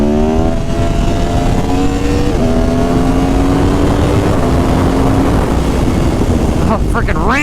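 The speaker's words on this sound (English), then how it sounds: "this bike's got a lot of power for a naked" An Aprilia Tuono Factory naked sport motorcycle being ridden hard, its engine droning loudly and climbing in pitch through several gear shifts over steady wind roar.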